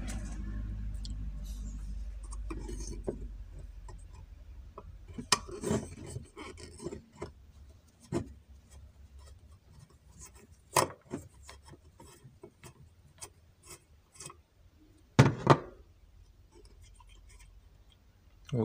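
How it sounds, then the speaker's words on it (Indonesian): A large screwdriver pries open the casing of a cooler fan that failed from running nonstop, giving scattered rasping scrapes and sharp clicks. The loudest pry comes near the end, with quiet pauses between efforts. "Lebih enaknya dibongkar pakai obeng yang besar aja"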